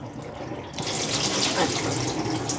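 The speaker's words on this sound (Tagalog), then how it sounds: "ihugasan ko lang yung yung rice cooker kasi kahapon matigas pa siya kagabi" Tap water runs steadily into a sink to wash out a rice cooker, a loud close hiss and splash that starts about a second in and keeps going.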